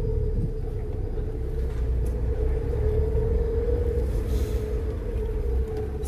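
Cars waiting in a drive-through COVID-19 vaccination line, heard from inside a car as a steady low engine rumble and road hum that holds at a loud, even level throughout, with no talk.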